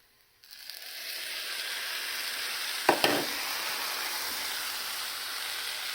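Tomatoes hit frying rice in a hot pan, setting off a sudden loud, steady hiss after a moment of silence, with a brief clatter midway as they are stirred in.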